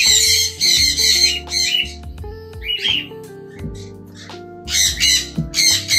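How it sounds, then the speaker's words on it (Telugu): Several all-white cockatiels with babies squawk in harsh bursts at a bird breeding hatchery, close and loud, their shrill calls repeating irregularly over a background of chirps. "ఫుల్ వైట్ కాక్టైల్స్ అనమాట విత్ బేబీస్"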